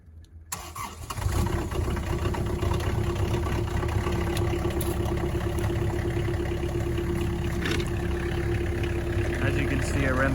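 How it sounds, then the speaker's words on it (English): Kubota KX071 mini excavator diesel engine cranking briefly, then catching after glow plugs warmed it, settling into a steady, close, rumbling idle that holds throughout. "We'll just run the glow plugs, let them warm up, and we'll start it up."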